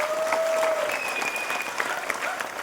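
Audience applause fills a hall, a steady wash of clapping hands throughout, loud and continuous with faint voices underneath.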